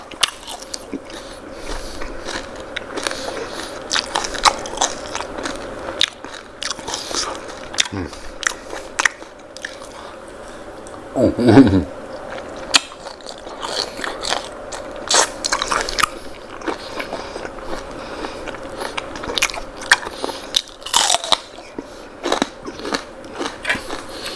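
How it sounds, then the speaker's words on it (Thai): Someone bites into crispy fried shrimp heads from a Thai spicy seafood salad, and close crunching and chewing run through the whole stretch, loudest near the middle. "อืมหัวกุ้งกรอบมาก"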